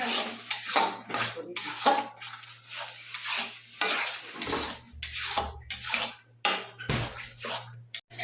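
Spices for an egg korma being stirred in a pan until dry, with scraping and clinking of a utensil against the pan in irregular bursts and a steady low hum beneath.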